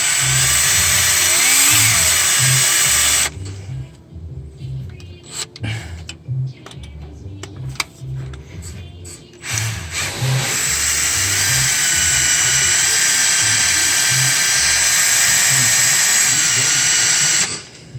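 A power drill bores out a seized EGR bolt on a 6.7 engine, a loud steady whine in long bursts with a break of stops and restarts midway, running close and alone.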